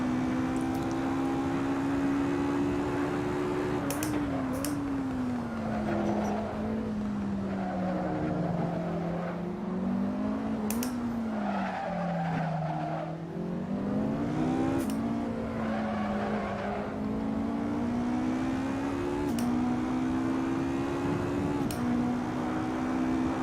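A race car engine drones steadily in the sim racing game Assetto Corsa during a championship round, its pitch rising and dipping through gear changes and corners, with occasional sharp clicks and no talk.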